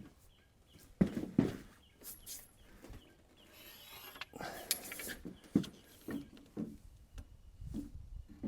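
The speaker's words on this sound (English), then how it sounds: "I have a C or a giant bar clamp that I can run across here, and maybe I can snug all this up" A giant bar clamp is run across a twisted board on a DIY mobile chicken shelter and snugged up, with close, irregular clunks, scrapes and ratcheting clicks.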